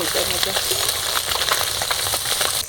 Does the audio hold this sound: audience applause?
no